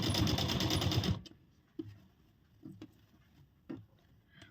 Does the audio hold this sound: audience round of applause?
no